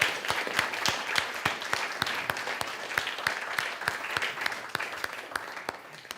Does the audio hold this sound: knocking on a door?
no